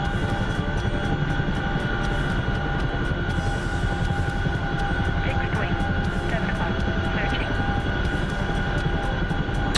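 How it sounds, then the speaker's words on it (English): A Chinook helicopter in a flight simulator game drones steadily with a loud, even rotor throb and a constant engine hum, unbroken and close for the whole stretch. "I'm just practicing the Chinook tonight because I just got it"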